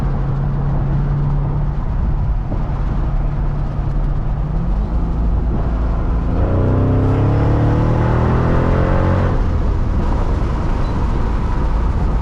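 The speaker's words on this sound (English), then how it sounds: "This car makes a lovely exhaust note" A 2005 Mercedes CL55 AMG engine drones steadily from inside the cabin, with a low exhaust rumble that rises in pitch as it accelerates through the gears, with wind noise through open windows throughout.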